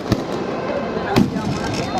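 A flower rocket firework launches outdoors: two sharp bursts about a second apart, one near the start and one at the middle, over a background of crowd noise and chatter.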